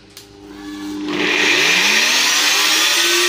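A blender making a banana peanut smoothie starts up and whines to a loud, steady high-pitched whir that holds without pause.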